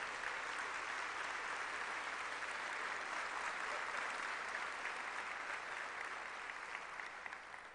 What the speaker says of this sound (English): How about a round of applause for our young people?